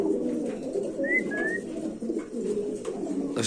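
Pigeons coo softly at a pigeon market, low murmuring calls mixed with a couple of brief higher bird chirps, and no talk over them.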